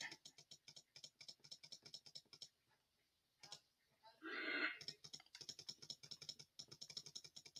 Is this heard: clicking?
yes